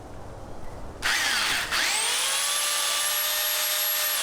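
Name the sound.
chainsaw cutting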